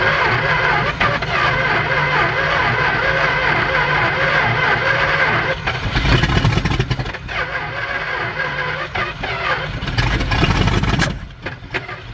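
A 1964 Plymouth Barracuda engine cranks and sputters while trying to start, a loud, steady mechanical churn that rises into rougher revving surges twice before easing off.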